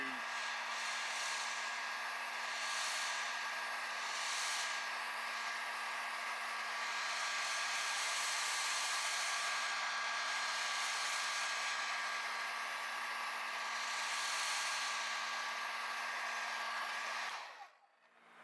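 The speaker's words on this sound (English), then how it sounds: "This is a hairdryer." A cheap hairdryer blows on a freshly painted model, a constant close whooshing hum with a steady motor whine that holds for many seconds before cutting off abruptly at the end.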